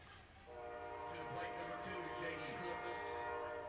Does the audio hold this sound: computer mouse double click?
no